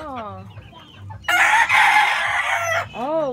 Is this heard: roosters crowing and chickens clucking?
yes